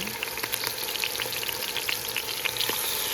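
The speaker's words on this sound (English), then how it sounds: "you can just hear the oil sizzling" Hot oil sizzles and crackles steadily, with scattered sharp pops spitting through the constant frying hiss.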